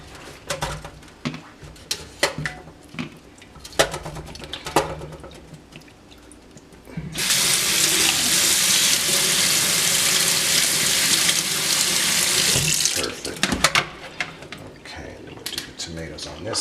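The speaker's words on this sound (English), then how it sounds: "And then we're going to take care of our tomatoes. And I'm going to just wash these off real quick." Tomatoes rinsed under a running kitchen tap: a steady, loud hiss of flowing water lasts several seconds mid-clip, with soft clatter and handling sounds before and after.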